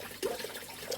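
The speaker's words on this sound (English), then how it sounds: "it puts out a hell of a flow for a little filter." Steady rush of flowing water with a splashing, gurgling quality, heard up close and fairly quiet, with no voices.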